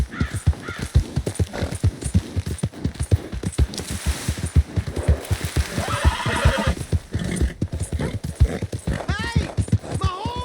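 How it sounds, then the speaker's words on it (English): A horse in Red Dead Redemption 2 whinnies loudly amid a steady clip-clop of hooves at a trot, with a crow cawing and someone shouting briefly near the end. "Hey! My horse!"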